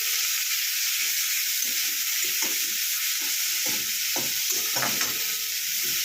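Chopped chicken pieces dropped into a hot pan for Tibetan thukpa, giving a steady loud sizzle throughout with scattered soft clacks and stirring knocks, no talking.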